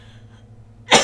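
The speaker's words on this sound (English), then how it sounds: "I still have the cough. It still comes and goes sometimes, so sorry about that." A single sharp cough from a man still recovering from an illness bursts out at the end of a quiet indoor moment, close and loud after near-silence.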